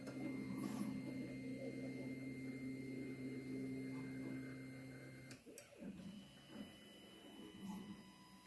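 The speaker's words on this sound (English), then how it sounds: "a quick demonstration of the mechanical operation of the new Reveni Labs developing machine prototype" A Reveni Labs film developing machine prototype runs its homing sequence, giving faint whirring motor tones that stop, followed by soft mechanical clicks and shifts, very quiet and close.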